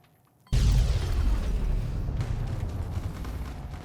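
A single loud explosion in the video game Fallout New Vegas bursts suddenly after a brief silence, then rumbles and decays slowly over several seconds.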